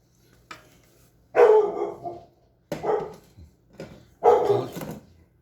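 Dogs barking in a few separate bursts, several sharp barks each, fairly close with quiet gaps between.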